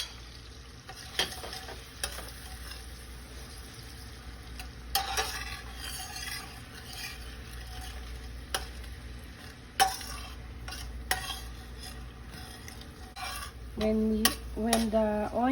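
Sweet onion and garlic sautéing in a pan, a low sizzle under intermittent spoon scrapes and clinks against the pan, close by, with a brief burst of utensil clatter near the end.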